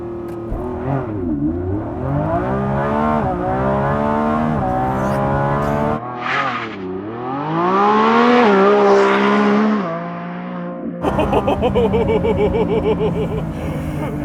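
A 2024 Lamborghini Revuelto supercar on winter tires accelerates hard, its engine climbing and falling through loud, close revving sweeps with gear changes, and a voice briefly joins near the end.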